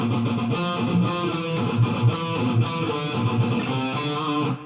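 A distorted electric guitar plays a melodic phrase of repeated picked notes, loud and sustained with a gritty tone, no voices.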